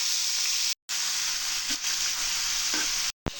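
Onion, curry leaves and green chilli frying in hot oil, a steady close sizzle with a few soft pops, broken by two short silent gaps.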